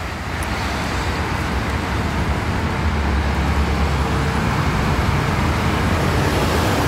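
Steady, broadband road traffic roars along the Jakarta–Cikampek toll road at KM 18 during the post-Lebaran return flow, with vehicles passing continuously at a loud, even level and no talk.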